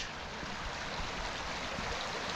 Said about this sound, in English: there's a wee burn coming through here with a bridge